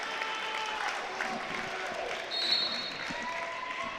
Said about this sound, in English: Great round of applause here from the fans.